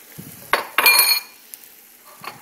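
Beaten eggs for an omelet are poured into a hot pan, giving a brief splashing pour and a short sizzle between light clinks of utensils against the pan, close and with no talking.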